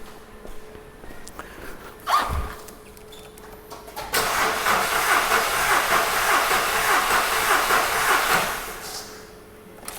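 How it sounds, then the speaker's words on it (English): A car engine with its fuel injectors disconnected cranks over without starting, a steady rhythmic churning that runs for about four seconds after a brief earlier burst. It is fairly close, with no speech. "Just by listening to the cranking cadence, we don't need to do anything else."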